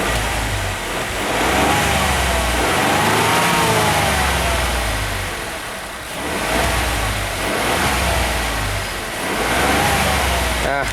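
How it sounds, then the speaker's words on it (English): A turbocharged truck engine revs up and down in several long swells from a rumbling idle, loud and close, with no clear separate blow-off whoosh standing out. "I'll do a quick rev on this one, see if I can get some blow off noise"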